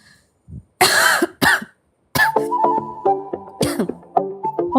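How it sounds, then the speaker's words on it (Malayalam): A person with a fever coughs twice in short, sharp bursts at close range, then speech follows in a quiet room. "ഒന്ന് ചുമക്കാവോ?"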